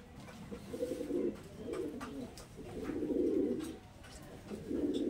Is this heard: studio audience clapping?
no